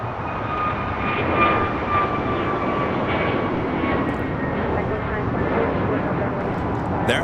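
A jet airliner, a United flight, takes off from runway 25 Right at LAX, its engines giving a loud, steady roar that holds for the whole stretch with a faint whine above it.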